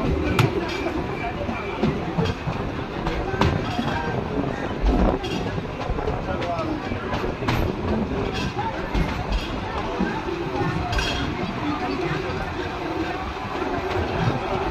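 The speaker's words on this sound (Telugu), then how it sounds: "మన ట్రైన్ అయితే చిత్తూరుకి వచ్చింది" The Tirupati to Tirunelveli Pamani Express rumbles along near Chittoor with steady wheel clatter and carriage noise heard from inside, while passengers talk in the background throughout.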